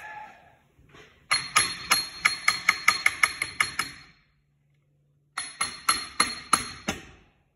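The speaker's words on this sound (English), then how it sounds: "So I gotta give her a few whacks." A hammer strikes an E4OD transmission part during a rebuild without special tools: a quick run of about a dozen ringing metallic whacks, a pause, then another burst of seven or so evenly spaced hits, loud and close.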